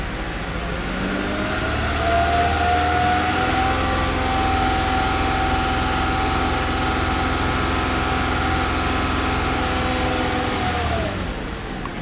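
A vehicle engine held at raised RPM, around 3,000, while preparing to jump-start a dead vehicle; a steady, loud, sustained drone with a slight rise early on, close by and continuous.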